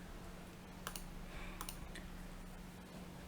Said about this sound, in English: to insert the function, we need to press the Shift and F3 button from the keyboard